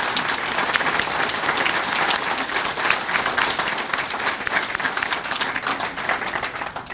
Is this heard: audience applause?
yes